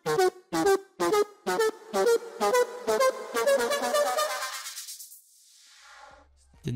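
Rhythmic synth stabs with Endless Smile automation rise steadily a full octave in pitch, speeding up into a sweeping climb that fades out, then a low thump at the end.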